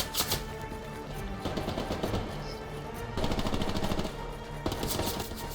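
A Browning Automatic Rifle fires in the Hell Let Loose game, with sharp gunshots cracking out in loose groups amid dense battle noise, loud and close.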